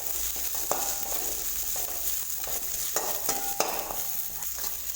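Mint leaves, onion and garlic sautéing in hot oil for tomato chutney, a steady close sizzle with repeated scraping and clinks of a spoon stirring against the pan.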